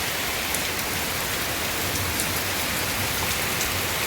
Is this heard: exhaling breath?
no